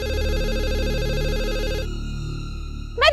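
A home landlind telephone rings loudly and steadily with a bright, continuous bell tone that changes pitch partway through, then a short burst of another sound cuts in at the end.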